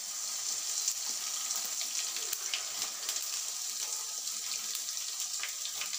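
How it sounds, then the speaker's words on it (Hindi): Kamarkas, edible gum, frying in hot oil for green moong dal panjiri, a steady close sizzle with fine crackling and bubbling throughout, no talk. "इसके बाद कमरकस को फ्राई करेंगे"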